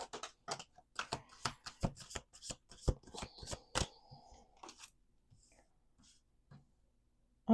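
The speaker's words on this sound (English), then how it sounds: "Let's do 2 more shuffles." Playing cards being shuffled at a table, a rapid riffle of crisp close clicks and flutters lasting a few seconds, then near silence.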